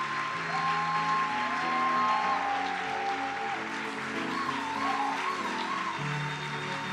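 Worshippers at a French-speaking church service clap and cheer for the Lord in a dense, continuous wave of applause, with musical tones and scattered shouts blended into the steady crowd noise.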